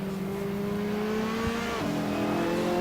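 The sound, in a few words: Ferrari 458 GTLM race car engine revving, Assetto Corsa video game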